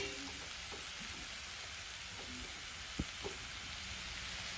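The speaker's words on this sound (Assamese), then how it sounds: "ইফালে ভাজি আছো ধুনীয়াকে" Spices frying in a pan with salt, chilli, turmeric, cumin, coriander, ginger and garlic, a steady soft sizzle with a couple of faint clicks of a utensil, no voices.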